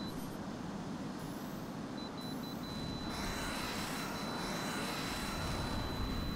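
A cargo plane in the video game Tom Clancy's HAWX gives a steady, broad engine roar, with a faint high whine running through it and a brightening whoosh partway through.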